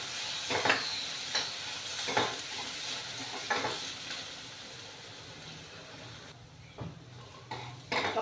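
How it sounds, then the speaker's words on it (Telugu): Moong dal fries in a hot tempering of oil, sizzling softly with intermittent stirring scrapes and clicks in a quiet kitchen. "ఒక 2 మినిట్స్ వేయించుకోవాలి పెసరపప్పు"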